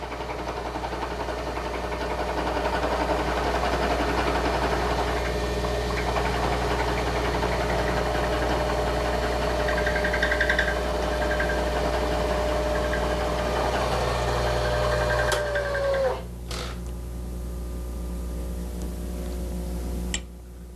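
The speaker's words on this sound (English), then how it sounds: "You're probably running the cutter a little too slow." A milling machine cutter turning at a slow speed gives a steady mechanical hum with engine-like knocking and vibration. The sound is loud and continuous, then shifts with a couple of sharp clunks near the end.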